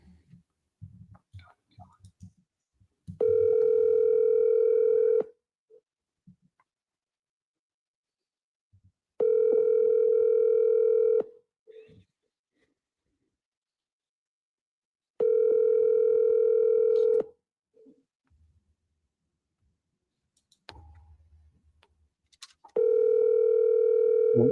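A steady telephone ringback tone sounds while a call is placed, coming in four long evenly spaced pulses about six seconds apart, with faint clicks and brief murmured talk in the silent gaps.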